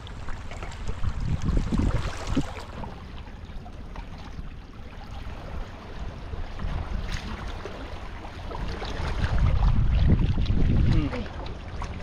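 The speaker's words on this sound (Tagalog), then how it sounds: "Daming nagdaan mga bangka eh." Low rumbling engine and water noise swell and fade, louder near the end, like fishing boats motoring past nearby on the sea, with wind in the background.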